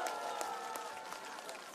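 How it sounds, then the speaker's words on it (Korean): Crowd applause at an outdoor political campaign rally in a station square in Paju, a steady dense wash of clapping with scattered sharper claps, continuous and fairly distant. "힘찬 박수 부탁드립니다."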